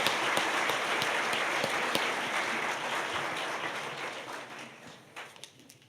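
Sustained applause fills the hall at a public service award ceremony as the honorees are recognized, many hands clapping at once and gradually dying away, with a few scattered claps near the end.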